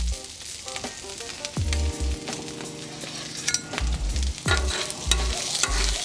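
Onions sizzle steadily on a hot griddle, a constant frying hiss punctuated by low thumps and a sustained humming tone in the background.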